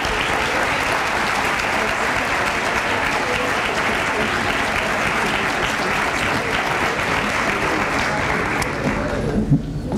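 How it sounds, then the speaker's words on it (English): A large audience at a Christian school's 7th and 8th grade awards chapel claps continuously and loudly for about ten seconds, a dense, even roar of hands that thins and fades near the end. "Round of applause for our J15 leaders."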